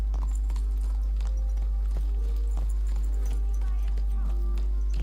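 Horse hooves from riding in the video game Kingdom Come Deliverance 2 make a steady clip-clop, partly buried under voices and a constant low background hum.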